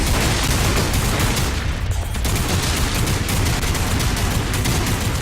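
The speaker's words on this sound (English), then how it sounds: "Some shooting there." Sustained heavy gunfire fills a firefight in the video game Lost Planet 3, a loud, continuous rattle of rapid shots with no pauses or talk over it.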